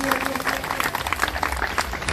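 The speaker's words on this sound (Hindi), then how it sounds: "जो तालियां लगानी चाहिए इस बच्चे के लिए" Applause for a student being congratulated at an event, a steady wash of many hands clapping with some crowd murmur underneath, fairly loud and continuous.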